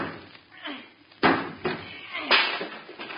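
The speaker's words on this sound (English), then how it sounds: "just see if you can knock that piece out, will you?" A sawed-out piece of wood around a doorknob is knocked free of a door with a sharp thud, followed by a couple of further knocks and bumps, amid background talk and noise in an old radio comedy scene about plumbing woes.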